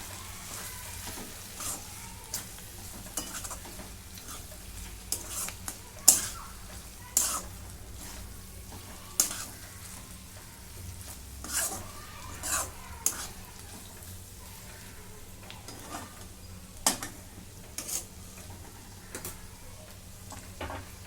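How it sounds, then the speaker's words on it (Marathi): Bell pepper with crushed peanut powder and coriander is stirred in a pan, a spatula scraping and clacking in irregular strokes over a low, steady sizzle, with no voices. "शेंगदाण्याचं कूट आता सर्व मिक्स करून घेते"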